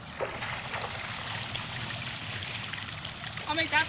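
Water rushing out of a backyard swimming pool as it drains and floods the lawn, a steady broad wash of flowing water under faint voices, with splashing and a louder surge near the end.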